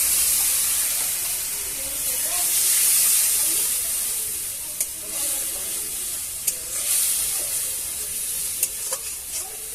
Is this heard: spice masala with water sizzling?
yes